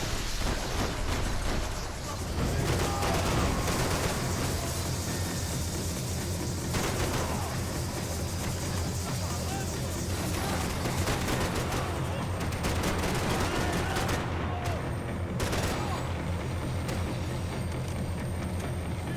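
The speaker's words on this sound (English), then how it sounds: "I love how enemies' guns discharge after they die sometimes in this game" Continuous gunfire rattles through a Max Payne 3 shootout, loud overlapping bursts and automatic fire from fallen enemies' discharging guns, dense and sustained with brief sharper cracks punctuating the barrage.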